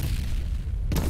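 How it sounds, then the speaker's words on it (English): A grenade blows up in the shooter game F.E.A.R., a single deep boom bursting in about a second in over a low rumbling backdrop. "Grenade out!"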